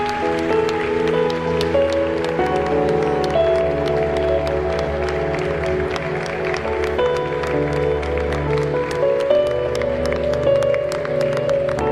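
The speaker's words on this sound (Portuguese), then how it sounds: "Vamos aplaudir o Senhor" Audience applauding at a Christian faith gathering, a continuous dense clapping texture with individual sharp claps scattered throughout, steady and fairly loud over a low musical drone for the whole duration.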